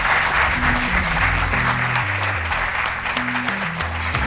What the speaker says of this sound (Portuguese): Um aplauso para eles de qualquer forma, que eles merecem.